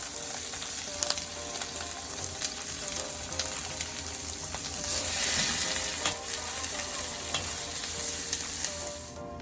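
Red onion and sweet peppers sizzle in a hot pan for a vegan tofu plantain bowl, a continuous close frying hiss with occasional stirring clicks and crackles throughout.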